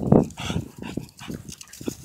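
An American bully dog out on a daily walk makes soft, close whimpering and panting sounds in short bursts, with no one speaking.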